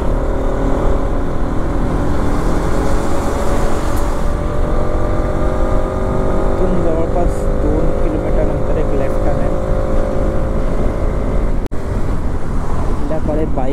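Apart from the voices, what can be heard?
motorbike riding up Kasara ghat road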